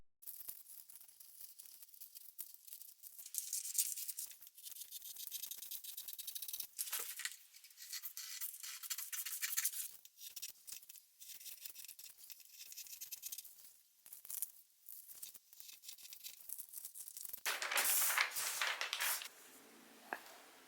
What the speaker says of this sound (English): Now it's time to cut the patterns.